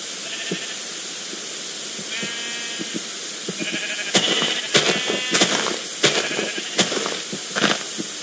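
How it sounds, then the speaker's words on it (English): Sheep bleating in the Minecraft video game, a string of short, clear bleats repeating in quick bursts over a steady background hum, growing louder and more frequent toward the end. "there's so many pink sheep!"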